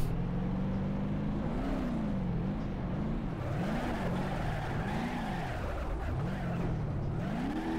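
A big American car's engine in BeamNG.drive revs up and down under hard acceleration, its pitch rising and falling in repeated swoops with a constant roar beneath, with no talk.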